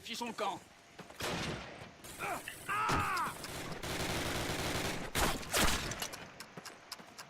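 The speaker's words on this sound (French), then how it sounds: "Les gars, je me fais tirer dessus." Bursts of rapid gunfire in Call of Duty Classic crackle through a busy mix, with a voice talking in French over the shooting.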